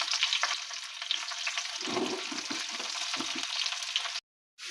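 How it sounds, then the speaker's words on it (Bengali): Onion and garlic sizzle in a pan with bursts of crackling and stirring scrapes, steady and close, ending abruptly in silence. "আমাদের পেঁয়াজ রসুন ভাজা হয়ে গেছে"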